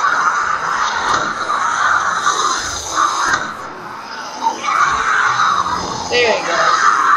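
A female zombie in the video game 7 Days To Die screams with harsh, drawn-out shrieks that rise and fall, loud and close, with a player's speech over it.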